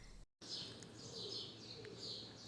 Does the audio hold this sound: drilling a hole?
no